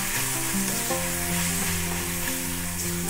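Chili and coriander powder sautéing in a pan for a protein-rich gravy, a continuous close sizzle with stirring, under a steady tonal background of music.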